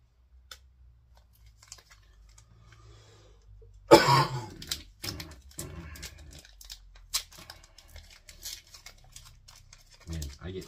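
A single loud, harsh cough bursts out after a quiet stretch, followed by scattered rustling and a few smaller throaty sounds.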